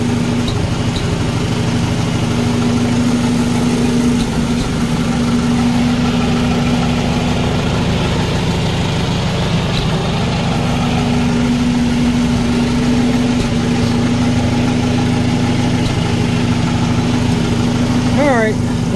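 A 1957 Farmall 450 diesel tractor engine idles loudly and close by, with a steady low throbbing rumble and a constant hum that barely changes throughout.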